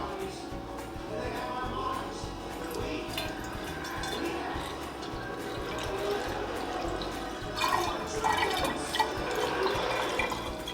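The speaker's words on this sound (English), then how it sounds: "we're gonna go ahead and pour our juice in there" Elderberry juice poured through a funnel into a glass jar, a continuous liquid trickle and splash running steadily at close range, swelling slightly toward the end.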